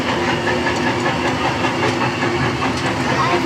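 A family tractor ride at Eagles Creek Farm in Lightwater Valley gives off a steady engine rumble with clattering and rattling, close and continuous, with faint voices mixed in.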